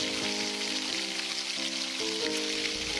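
Chicken mince stir-fried with steamed banana flower and chickpeas in a pan makes a steady, loud sizzle that hisses on without a break and carries no talk.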